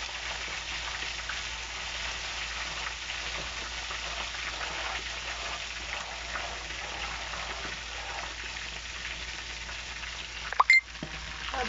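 Chicken frying in a pan gives a steady, continuous sizzle throughout, with a brief clattering knock near the end.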